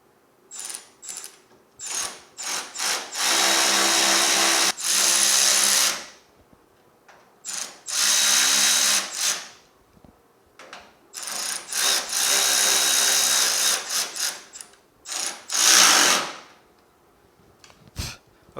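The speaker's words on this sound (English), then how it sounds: "let me get these bolts in and get them tightened up" A power tool whirs and ratchets in several loud bursts, each a few seconds long, separated by short pauses and small clicks, as it tightens bolts during an air-conditioning install in a 1965 Chevrolet Malibu SS.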